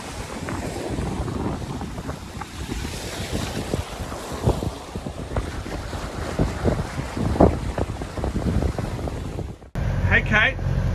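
A sailboat cruising at almost 7 knots on the way to Great Keppel Island, with constant wind buffeting the microphone and waves rushing past the hull, loud and steady throughout.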